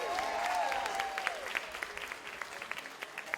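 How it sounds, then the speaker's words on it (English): Audience applause at a Caribbean Heritage event, a burst of clapping that fades into scattered claps, with a brief tonal sweep and faint crowd murmur early on. "let's give a big round of applause"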